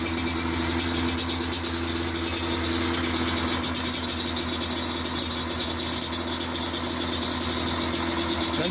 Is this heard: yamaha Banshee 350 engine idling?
yes